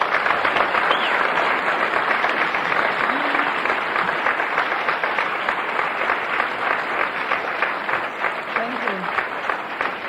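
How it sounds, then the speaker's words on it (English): Steady applause from an audience at UCLA in 1984 fills the whole stretch, dense and continuous, with a faint voice or two barely surfacing underneath. "Let's have a nice round of applause for Barbara Smith."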